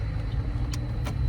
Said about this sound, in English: My car is moving.